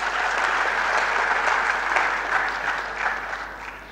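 Lecture audience applauding in a hall, a steady dense patter of many hands clapping that fades slightly toward the end.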